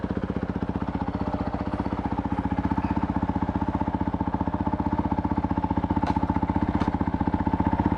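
A Honda CRF450L dual sport bike ridden slowly around a parking lot: a steady, rapid single-cylinder thump, loud and close, holding an even pace with little change in revs.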